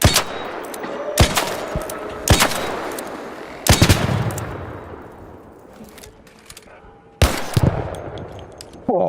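Sharp, loud Venator gunshots in the shooter game Arc Raiders, five separate cracks spaced a second or more apart, each trailing off into a ringing echo, with no talk over them.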